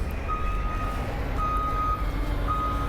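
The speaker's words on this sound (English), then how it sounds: "Got a truck just now pulling in." Truck pulling into a construction site during a plaza renovation, its reversing alarm sounding steady repeated beeps over a constant low engine rumble and broadband site noise.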